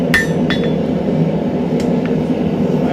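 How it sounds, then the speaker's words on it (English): A blacksmith's hammer taps bent metal for a can tab opener on the horn of an anvil, giving a few sharp, light metallic clinks spaced over a low, steady background hum. "I think I might bring it here to the horn of the anvil again. Give it a couple taps."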